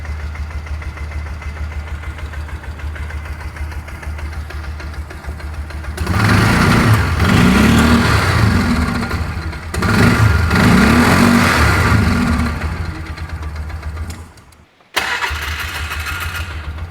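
A UTV engine, just back together after a head gasket replacement, cranks and catches, then runs at a steady mid-pitched idle with slight surging. It is loud and close, with a short cutout near the end before the idle resumes.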